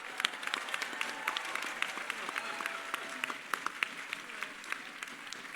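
Audience applause fills the hall at the Imagine Cup 2018 regional final in Kuala Lumpur after a team's pitch, a dense, even patter of many clapping hands, with faint voices beneath.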